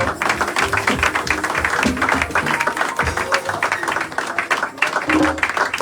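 A church congregation claps along during a Sunday worship service, a dense, steady wash of hand claps and voices filling the room continuously, with singing or chanting mixed throughout.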